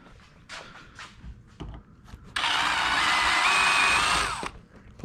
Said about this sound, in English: we go ahead and drill out so we can put a new rivet in there